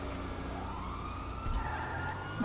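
A police siren wails in a GTA video game, heard at moderate distance beneath a dense mix of game sounds, steady over a couple of seconds, with no talking.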